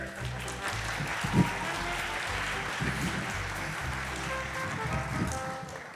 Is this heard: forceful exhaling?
no